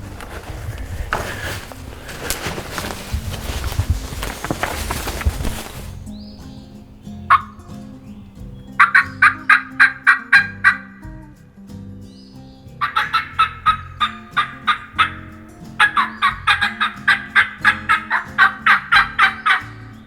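Wild turkey gobbles ring out in Massachusetts woodland, several loud, rapid, rattling bursts in a row after a quieter stretch of rustling, the calls carrying clearly from a moderate distance.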